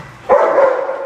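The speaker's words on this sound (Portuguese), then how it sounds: "A cachorrada tá atacada." Beagle dogs bark in a single loud, close burst that starts abruptly and holds steady to the end, with no speech over it.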